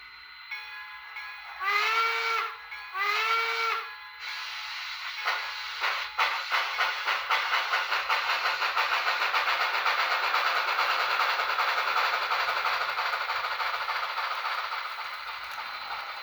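Two short whistle toots, then the digital exhaust chuffs of a Bachmann Spectrum 2-6-6-2 model steam locomotive with a SoundTraxx Tsunami 2 decoder start slowly and quicken into a steady rapid rhythm, with a background hiss.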